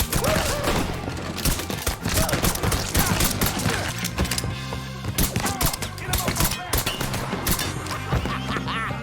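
Rapid bursts of gunfire from the Mafia 3 video game, dense volleys cracking continuously through a busy battle mix with game dialogue voices underneath.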